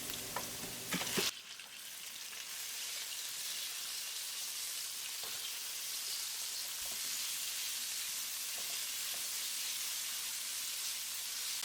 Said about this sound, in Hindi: यहाँ हमारे पास है रेड चिली, सौटे करेंगे। चिकन शामिल करेंगे।